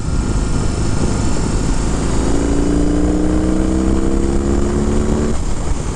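A 2022 BMW R18 1800cc cruiser motorcycle engine drones loud and steady while riding, with a continuous low rumble, heavy wind rush, and a rising tonal whine mid-ride that fades away.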